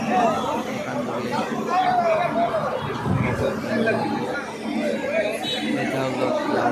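Crowd chatter fills Sealdah railway station in Kolkata, a dense, steady babble of many voices close around, with occasional louder nearby speech rising out of the hubbub.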